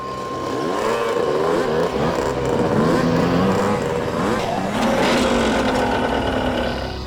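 Several motorbikes, three bikers riding in together, rumble and rev at close range, their engine notes rising and shifting over a steady mechanical drone for several seconds.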